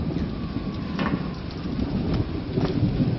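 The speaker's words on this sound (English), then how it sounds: "And we're back out in the rain again." Steady heavy rain hisses in the video game BSI, with a low rumble of thunder beneath it and brief crackling bursts scattered through the few seconds, loud, close and without any voice.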